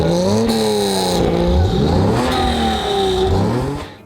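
A 1955 Mercedes racing car with a 3.0-liter straight-8 engine, a Formula One motor adapted for endurance racing, revs loudly and continuously, its pitch climbing and falling in repeated sweeps close by, with no talk.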